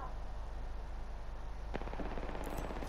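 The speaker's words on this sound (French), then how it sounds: "J'ouvre le feu sur l'ennemi." Rapid automatic gunfire from a shooter video game bursts in partway through, a fast rattling volley over a low background hum.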